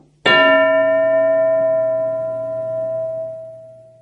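A single bell strike rings out clearly, its bright metallic tone sustaining and slowly fading over several seconds.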